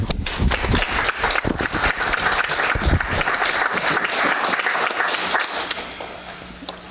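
Audience applause welcoming speaker Brooke Fisher at a United Way talk for a Lions Club gathering, a dense burst of clapping from a room crowd that fades out toward the end.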